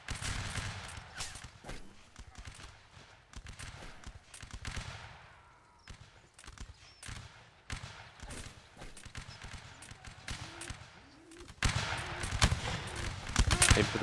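Musket volleys in a Napoleonic Wars line battle game: ragged bursts of many overlapping shots crackle in repeated waves, near and distant, with a heavy close volley at the end and shouted commands between them.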